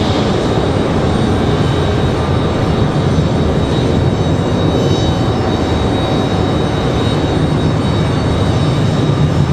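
Icelandair airliner taxiing to the gate at Raleigh-Durham airport, a continuous loud jet engine whine and rumble held steady across the whole stretch, with no voices.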